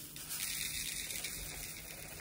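Diamond painting drills are poured out into a large, wide plastic storage tray, making a steady, close, hissing patter of tiny beads that runs unbroken for a couple of seconds.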